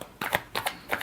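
A deck of cards is shuffled during a horoscope love reading: three quick, crisp riffling bursts in about a second, close and fairly soft.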